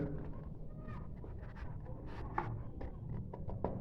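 A craft knife cuts a paper piece for a 7th-grade architectural model, giving soft, scratchy slicing strokes in an irregular rhythm, quiet and close.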